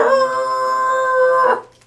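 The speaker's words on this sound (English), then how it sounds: "He's scratching at the door." A dog gives one sustained, steady howl lasting about a second and a half, loud and close, then it breaks off into quiet; no scratching stands out.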